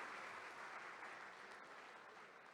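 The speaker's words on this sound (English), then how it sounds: "Can we have a big round of applause for sir," Sustained audience applause at a startup ecosystem session of a professionals' conference, a steady dense wash of clapping that holds evenly throughout and fades only slightly at the end.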